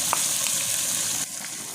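Garlic-ginger paste frying in three to four spoons of hot oil in a wok, a steady, loud, crackling sizzle that fills the whole moment with no voices.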